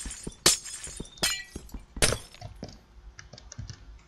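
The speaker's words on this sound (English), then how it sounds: "I had to break this glass." Glass blocks shattering in Minecraft, three sharp loud breaks spaced about a second apart, mixed with softer clicking from keys and mouse, with no talk.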